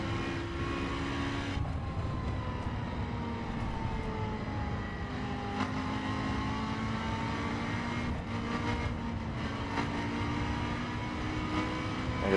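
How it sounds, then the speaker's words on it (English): A BMW M4 engine in the driving video game The Crew drones steadily at moderate level, with gear shifts and rising and falling revs as the car drives along roads, heard alone without talk. "this is a good sounding car and all, but I don't think it's the appropriate sound"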